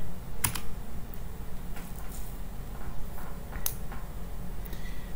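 Typing a command on a computer keyboard, a short run of close, crisp key clicks in uneven bursts, with no voice over it.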